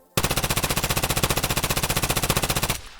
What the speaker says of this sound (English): So we're gonna shoot the first target without pulling down.